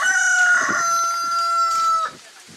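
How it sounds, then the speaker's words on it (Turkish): A rooster crows loudly and close by, one long sustained call with a strained, harmonic tone that breaks off abruptly near the end. "Evet, horoz ötüyor."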